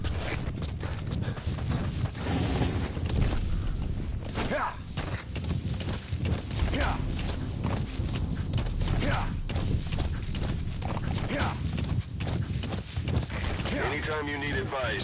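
Horse hooves clip-clopping in a video game, a steady rhythmic trot under game music and a voice talking throughout.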